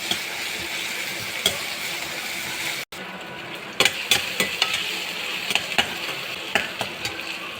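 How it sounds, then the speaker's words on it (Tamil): Onions, garlic and green chilli sauté in a hot pan, giving a steady, close sizzle with occasional sharp scrapes and taps of a stirring spoon against the pan, no voices. "வெங்காயம் பூண்டு போட்டுக்கோங்க. அப்புறம் பச்சை மிளகா போட்டுக்கோங்க. வெங்காயம் நல்லா வதக்கிடணும்."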